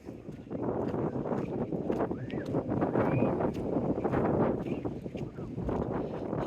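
Strong wind buffets the microphone on a seafront, a continuous loud roar with gusty swells and no voices.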